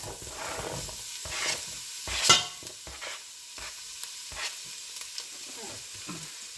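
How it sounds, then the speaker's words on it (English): Onions sizzle in melted fat in a soup pot for a springtime apple and coconut milk soup. A steady frying hiss is broken by several sharp spoon clinks and scrapes, with one louder clatter near the middle. No one speaks. "So we're going to get this good and melted and put our onions in."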